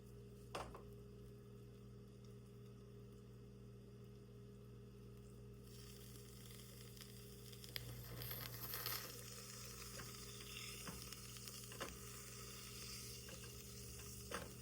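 Soft, steady sizzling of ravioli frying in oil with a constant low hum underneath, a few faint clicks and clinks partway through.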